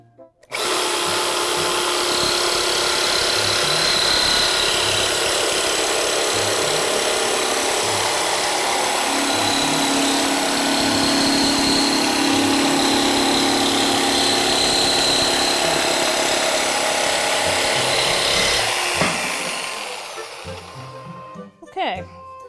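A jigsaw cuts through wood in one continuous, loud, buzzing run lasting close to twenty seconds, then winds down and stops, with brief speech following.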